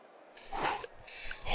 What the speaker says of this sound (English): Did you just snort at me?